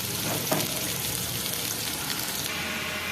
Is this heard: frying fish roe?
yes